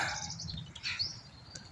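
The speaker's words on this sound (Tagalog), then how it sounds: "Tapos napakaraming ibon." Many birds in a Paris park in the morning, with wing flaps and high chirps mixed in a faint outdoor ambience.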